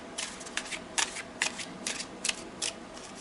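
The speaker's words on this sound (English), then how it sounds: "it does at least allow me to shuffle it better that way" A large tarot deck is shuffled by hand, producing about eight quick crisp riffling bursts in an uneven rhythm, close and fairly quiet, with no talking.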